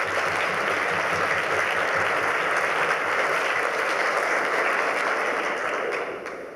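A hall audience at a charity evening applauds steadily, a dense, even wash of clapping that holds for several seconds before starting to fade at the end.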